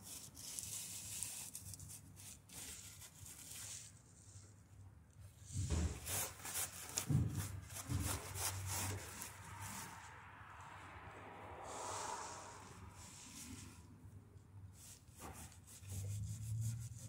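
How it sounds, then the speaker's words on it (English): Flex Seal paste being rubbed off a gas tank by hand: a quiet, steady scrubbing with repeated strokes that swell louder for a few seconds in the middle and again near the end. "Rubbing action to it right now. There's more coming off."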